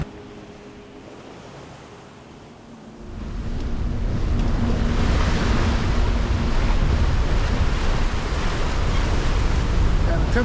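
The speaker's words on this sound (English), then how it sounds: "the wind has picked up a little bit" Wind rises with rushing waves on a sailboat running downwind at 16 knots in the cold sea off Greenland. The steady broadband roar swells loudly after a quieter start and holds continuous to the end.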